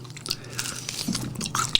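Close, wet biting and chewing of sticky, sauce-coated Kyochon Bangkok jumbo chicken wings, soft rather than crunchy, with a few moist squishes and light crunches over a short stretch and no speech.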